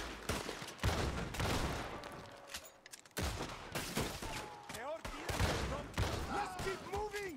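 Shotgun blasts in Red Dead Redemption 2, several loud booming shots spaced a second or two apart amid a chaotic gunfight, with game voices and other effects between them.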